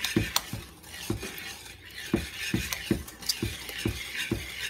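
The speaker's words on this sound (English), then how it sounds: "whisk everything together until it's well incorporated" Chocolate fudge pie filling with vanilla extract being whisked in a bowl, a steady run of close, rhythmic taps and scrapes about twice a second, with no voices over it.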